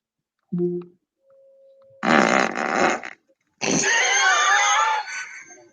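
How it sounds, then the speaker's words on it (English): A smart speaker's fart game plays its fart sound effects: a brief short blip, then two long, loud, raspy bursts separated by a pause, each close and dry. "Alexa, play the fart game."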